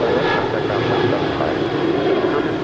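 A Reno Air jet in gray livery at Los Angeles International produces a steady engine roar throughout, a continuous mid-level drone with faint talk underneath.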